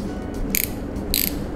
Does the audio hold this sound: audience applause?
no